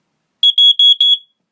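An older First Alert SA67D smoke detector sounds its alarm, four loud piercing high-pitched beeps in quick succession, close and isolated against silence.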